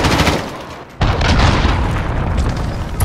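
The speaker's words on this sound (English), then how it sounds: "Grenade out!" A grenade blast and gunfire in Call of Duty Modern Warfare sound as a dense, loud wall of booms and rapid shots. A brief dip is followed by a heavy burst, and the barrage continues without letup.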